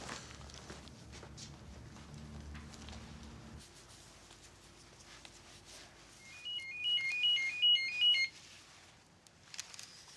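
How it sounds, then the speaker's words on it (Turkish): A telephone rings out in a warbling electronic pattern of short repeated bursts as a call is placed on a Turkish TV drama set, following a low background hum; no talk is heard. "Dur Cemre'yi bir arayayım"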